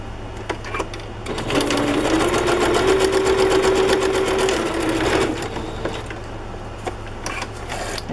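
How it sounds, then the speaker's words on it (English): A sewing machine stitches fabric strips for index cards, running in one steady burst of rapid, close mechanical clatter for several seconds before stopping, with softer handling noises on either side. "I'm just going to sew it like this"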